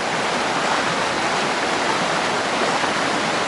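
A woodland waterfall on a stream makes a steady, dense rushing roar that stays constant and close throughout, with no other sounds standing out.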